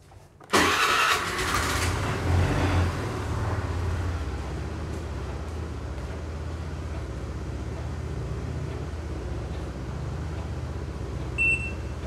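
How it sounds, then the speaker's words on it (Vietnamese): A car engine cranks and fires during a diagnostic check for sensor faults with no stored ECM codes, then settles into a steady, fairly loud idle that continues alone, with a short beep near the end. "Vâng, mình sẽ cho xe nổ đã."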